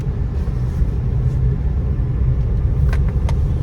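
Car pulling away in second gear on a half-engaged clutch, a steady low engine rumble and road drone throughout at close range, with a few faint brief clicks near the end.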